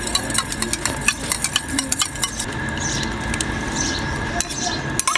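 Yogurt being whisked for an Eid beef karahi, with a utensil clinking and scraping rapidly against the bowl in quick irregular strokes, close and fairly clear.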